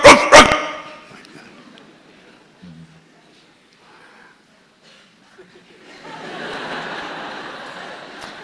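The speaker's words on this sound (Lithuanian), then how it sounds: "Sometimes the bad dog howls very loud." A loud, short burst of dog howling and barking opens, then near silence, followed by a swell of murmuring and laughter from an indoor audience.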